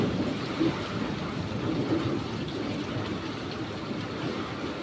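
Typhoon wind and heavy rain heard from indoors by a window during a power blackout, a steady dense roar of rain and gusts that holds at the same loud level throughout, with no talk.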